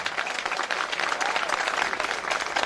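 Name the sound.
audience applause for a musician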